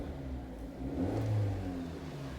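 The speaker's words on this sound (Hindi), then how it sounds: "तो अभी मैं अगर एक्सेलरेटर दबाऊंगा" An automatic car's engine held in neutral with the brake pressed revs up as the accelerator is pushed, a steady low rumble swelling around the middle and then easing back, heard alone and fairly close.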